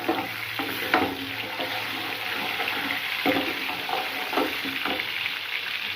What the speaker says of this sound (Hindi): लहसुन को मैंने डाल के इसमें ये देखो फ्राई कर रही हूँ